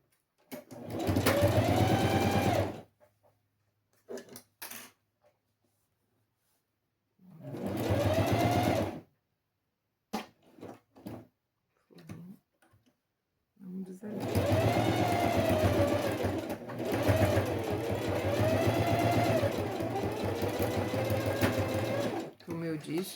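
Sewing machine running a closing seam on slippery satin with a shortened stitch length, several bursts of steady, close mechanical whirring separated by pauses, with brief sounds and speech in between.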